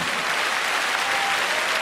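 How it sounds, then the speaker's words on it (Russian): An audience applauds a singer after a cover performance, with thick, continuous clapping that holds at a steady level throughout the short burst. "Все эти аплодисменты вам, Анастасия Игоревна."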